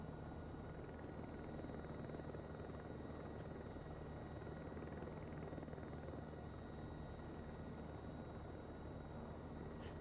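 An H125 helicopter in flight in the game Heli Ops: Kodiak Island, its engine and rotor giving a steady, dense drone that fills the whole stretch at an even level.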